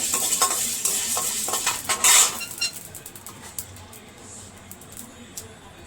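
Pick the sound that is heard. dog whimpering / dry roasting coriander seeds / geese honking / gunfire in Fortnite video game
dry roasting coriander seeds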